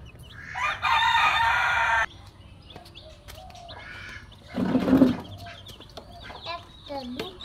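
Chickens cluck near at hand and a rooster lets out a long, loud crow, followed later by another burst of squawking, with scattered clucks and brief voices between.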